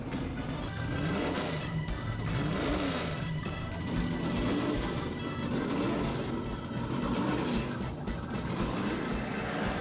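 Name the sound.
historic sports car engines racing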